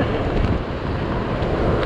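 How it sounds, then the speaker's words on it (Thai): Strong storm wind blows outdoors by the Mekong River, buffeting the microphone in a loud, continuous roar with no pauses and no voices. "ดูลม ดูความเป็นลม เคยได้ยินลมแบบในหนังไหมนี่ของจริงครับ"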